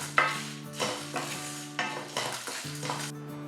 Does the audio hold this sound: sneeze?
no